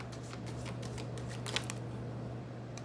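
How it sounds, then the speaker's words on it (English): Tarot cards shuffled by hand, a soft papery riffle that swells near the middle with a few brisk flicks, close and fairly quiet against a steady low hum. "And then shuffling, there it is."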